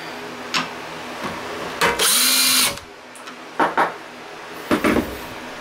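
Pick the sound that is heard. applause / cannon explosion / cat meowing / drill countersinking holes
drill countersinking holes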